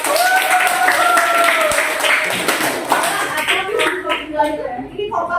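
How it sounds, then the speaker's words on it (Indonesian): Group of students clapping hands together in a classroom during an economics lesson, a broad steady burst of applause with some voices and chatter mixed in. "Tepuk tangan dong buat kelompok."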